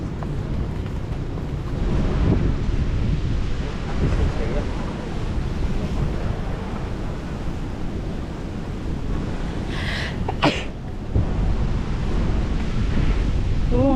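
Wind blowing at Fort Santiago in Manila, a continuous loud rumbling roar buffeting the microphone for the whole stretch, with a brief burst of voices near the middle.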